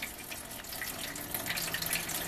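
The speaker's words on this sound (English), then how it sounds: "So right now I'm just flowing water into the tray here." Tap water runs steadily into a refrigerator's ice maker tray during a flush, a close, even hiss with faint splashing, alone with no voices.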